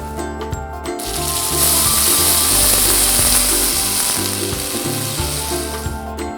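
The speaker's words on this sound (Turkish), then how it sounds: "Sebze suyunu ekliyorum." A loud burst of hissing sizzle as vegetable stock hits a hot cast-iron pot of carrot soup, swelling then settling, with music playing underneath.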